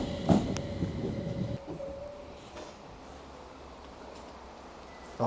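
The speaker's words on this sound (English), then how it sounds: "it's time for me to ride the Tazawako Line train" A Tazawako Line train in Japan rumbles with a low mechanical drone and a brief tonal hum near the start, then settles into quieter, steady running noise.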